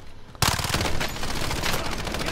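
Gunfire erupts in Call of Duty Warzone after a brief quiet moment, then holds as a dense, loud, continuous automatic rattle.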